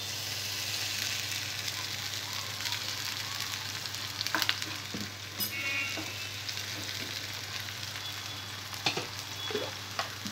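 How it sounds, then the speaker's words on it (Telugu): Onion pieces frying in a pan for dhaba-style paneer masala, a dense steady hiss of oil over a low hum, with a few sharp spoon clicks now and then and no talk. "ఉల్లిపాయ ముక్కలు కొద్దిగా ఫ్రై అయిన తర్వాత ఇందులో టమాటో పేస్ట్ వేసుకోవాలి"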